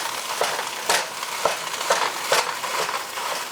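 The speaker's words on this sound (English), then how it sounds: "now we're just gonna chop up the meat" Sausage meat being broken up in a hot frying pan for a deep dish pizza, sizzling steadily under repeated scraping strokes of a utensil, close and fairly loud.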